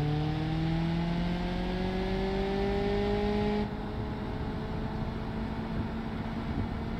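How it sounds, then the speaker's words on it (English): A car engine in the BeamNG driving game holds a high, strained over-rev, a steady droning whine with harmonics that rise slightly before cutting to a lower, quieter hum midway, with no talking. "Over revving the engine, that's not a good sign."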